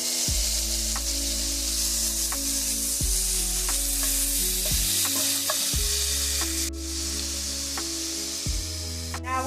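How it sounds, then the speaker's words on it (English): Onion sautéing in melted butter in a single pot, a steady broadband sizzle running throughout with a few stirring clicks and knocks, close and fairly loud, no talk. "We're going to add in our onion. We're going to saute that for 3 minutes."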